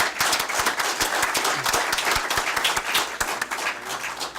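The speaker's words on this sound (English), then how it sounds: "So let's give them a big round of applause." Lively applause at a school district board meeting, recognising an elementary school for top attendance, loud and sustained with individual sharp claps standing out in the mix, no one speaking.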